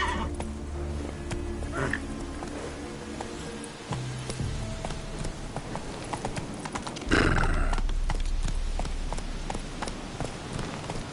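Hooves of Roach, the horse in The Witcher 3, clip-clop in a steady galloping rhythm, with a whinny partway through and louder, closer hoofbeats after a burst of noise near the end, over game music.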